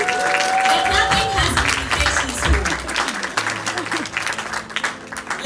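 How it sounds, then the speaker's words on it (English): Audience applause at a women's mentorship and networking event, a dense burst of clapping from a room of people that swells and then thins out. "let's put our hands together for both of them"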